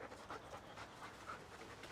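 A shepherd puppy in training for search and rescue pants in quick, soft, rhythmic breaths, faint and close, with no one speaking.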